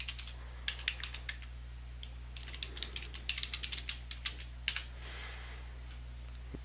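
Login credentials tapped out on a computer keyboard, a steady patter of light key clicks with brief pauses, close and fairly quiet over a low electrical hum.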